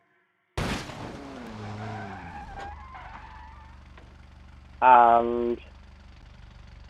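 A VAZ 2102 car in the BeamNG.drive video game starts with a sudden loud burst, then an engine revs and whines with tire skidding, followed by a quieter idle and a brief loud rev near the end; a voice speaks briefly.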